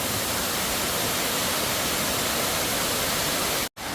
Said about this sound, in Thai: ทานน้ำตกตรงนี้จะสวยมากเลย